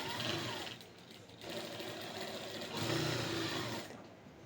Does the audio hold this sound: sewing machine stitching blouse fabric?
yes